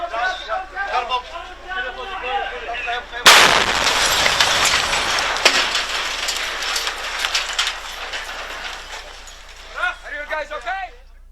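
A sudden loud blast in filmed street combat, a sharp boom near the middle followed by a long rumbling, crackling wash of debris, with voices talking before and after.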